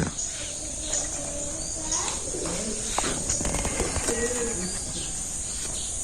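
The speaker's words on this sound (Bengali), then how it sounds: "গুগু পাখির ডাক শোনা যাচ্ছে" A dove coos repeatedly in a low, soft rhythm on a morning in a Bangladeshi village, the calls set against a steady outdoor hiss with faint other birds.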